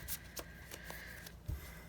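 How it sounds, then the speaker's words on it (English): A tarot card deck is corner shuffled in a few soft, quiet bursts of riffling and tapping cards, close and faint, with no talk. "I think it would be easier to corner shuffle."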